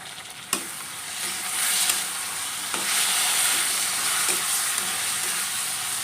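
Egg and potato curry stirred and fried in a pan, a steady close sizzle with occasional scrapes of the spoon, continuing alone without voices.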